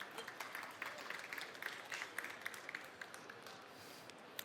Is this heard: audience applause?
yes